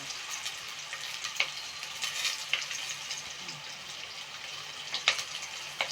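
Curry leaves sizzling as they hit hot oil in a village kitchen, with a soft, steady frying hiss and a few sharp crackles and spatula taps, fairly quiet and without talk.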